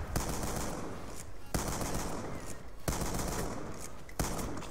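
Automatic gunfire in Black Ops 2, a steady, dense stream of shots with sharp louder cracks about every second and a half. It sits at a moderate level and there is no talking over it.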